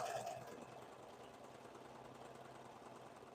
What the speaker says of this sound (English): I'll usually put a little tension on it and then I'll start sewing